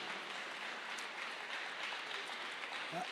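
Steady applause from an audience at a political meeting, a continuous dense wash of clapping that holds evenly at moderate level throughout.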